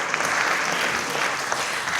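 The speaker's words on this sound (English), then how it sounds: "Keep clapping." An audience at a live poetry performance applauds steadily, a dense and continuous wash of clapping throughout.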